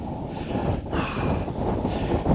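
Steady wind roars across the microphone on an open fell summit, a loud, unbroken rush with no talking.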